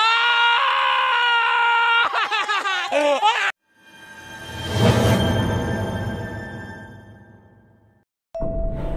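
A man screams hysterically in fear at a forest cemetery, shrill, wavering shrieks for several seconds that stop abruptly, followed by a swelling, rumbling noise that fades and a tone at the end.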